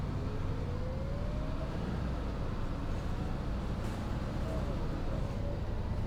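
In the OMSI 2 bus simulator, a bus engine accelerates at full throttle, a steady loud drone with a slowly rising tone that continues for the whole stretch. A voice is also faintly present.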